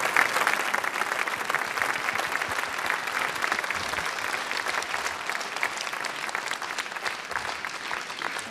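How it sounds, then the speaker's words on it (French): Sustained audience applause at an inaugural company evening, dense and even clapping from a sizable crowd throughout, moderately loud with no speech. "Vinelio sous vos applaudissements."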